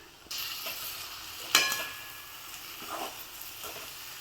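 Potatoes stirred and fried with spices in a pan for a tiffin potato bhaji, a steady sizzle with occasional scraping strokes of the spatula, fairly close.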